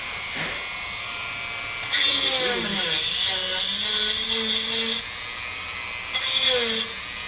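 A Dremel rotary tool whines at high pitch as it bores into an RC truck link clamped in a vise, running in two steady bursts with a pause between, loud and close.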